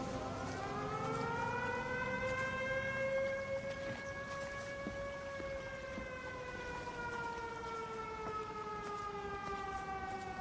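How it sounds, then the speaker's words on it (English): A rising and falling air raid siren wails steadily in the game Everybody's Gone to the Rapture, its tone sliding slowly downward and lingering loud and continuous for the whole stretch with no talk over it. "Now there's an air raid siren."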